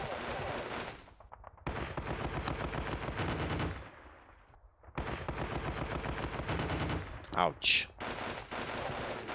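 Bursts of machine gun and rifle fire from a WWII strategy game set in Normandy, dense rattling volleys broken by short pauses, with one brief voice exclaiming partway through.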